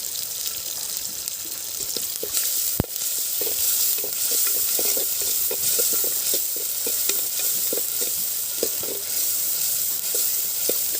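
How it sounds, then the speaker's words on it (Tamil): Onions sautéing in a pan for a Chettinad country chicken curry, a steady close sizzle with a busy run of small clicks and scrapes from stirring, one sharp knock near the start, no voices. "அதுக்கப்புறம் வந்து வெங்காயம் போட்டதுக்கப்புறம் நல்லா வதங்கட்டும்"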